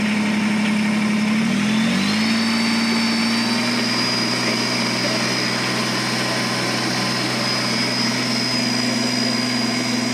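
Kubota BX2380 compact tractor engine with a loader attached, held at 2,500 RPM: a steady, loud, continuous drone with a sustained whine, briefly rising at the start then constant throughout, with no talking.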